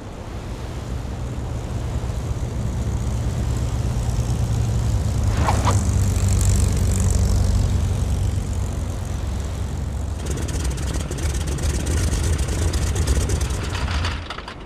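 Propeller aircraft engines drone on a carrier during an emergency landing in the Battlestations Midway World War II naval game, a loud steady roar that swells and shifts pitch, with rushing wind and sea noise.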